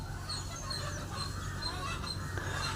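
Pigeons kept by a bird lover, with short repeated bird calls over a constant low background hum, fairly close and steady throughout, with no speech.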